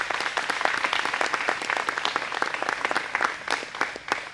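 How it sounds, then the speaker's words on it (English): An audience at a Teacher of the Year finalist announcement gives a round of applause to the sponsoring companies, a steady, moderately loud patter of many hands with no speech over it. "So please let us give these companies a round of applause."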